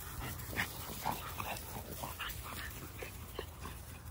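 A pet dog gives soft whimpers and yips at a moderate distance, indoors against low background noise, with no talk.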